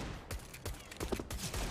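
Rapid gunfire in the video game CS:GO crackles in a quick burst of several sharp shots, fairly faint and without speech.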